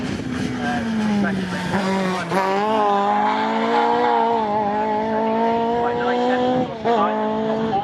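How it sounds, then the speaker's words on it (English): Pre-1993 and pre-2003 touring cars, including a Honda Civic, race at Snetterton circuit, with loud, close engines revving through changing gears and a shift near the middle, under steady race commentary. "Preble is so good off the slower corners, so he's got loads of traction in the Honda Civic"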